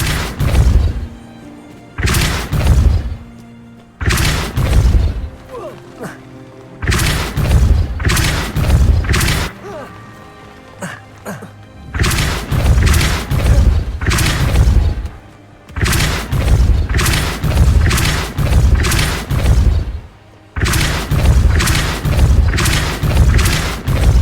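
Depulso spell blasts in Hogwarts Legacy, a series of loud, close, booming impacts in quick clusters separated by brief pauses, with a low rumbling tail after each burst.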